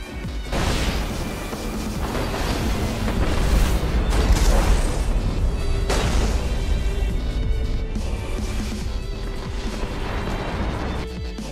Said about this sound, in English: aims and fires with his perfect Nova Bomb shot, and takes out 5 Guardians